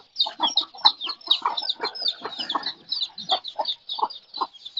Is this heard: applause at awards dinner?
no